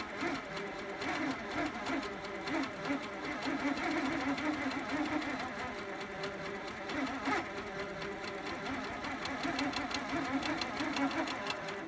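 A sewing machine runs continuously and fairly fast while stitching free motion quilting circles. The needle keeps up a dense, steady hum and patter at close range, with slight speed changes and no pauses.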